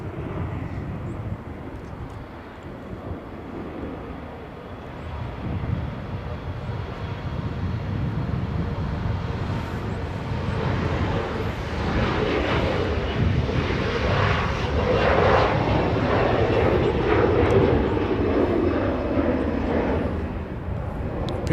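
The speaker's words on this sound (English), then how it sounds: "we have an A321 Delta Airlines heading to Minneapolis" A Delta Airlines Airbus A321 jet taking off from Los Angeles International Airport toward Minneapolis, a distant engine roar that swells steadily into a broad rumbling thrust and holds, with light voices in the background.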